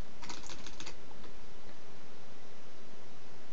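Rapid clicking of computer keys while code is typed on a keyboard, a close burst of keystrokes over the first second, then fading into a steady low background hiss.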